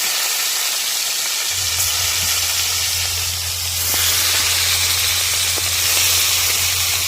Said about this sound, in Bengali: মুঠে ভাজার জন্য তেল দিয়ে নিলাম,